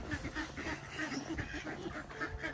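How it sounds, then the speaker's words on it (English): Ducks quack repeatedly in a steady chatter at a Highland loch resort, a mid-distance flock calling over faint background ambience with no one talking. "Look at all the ducks."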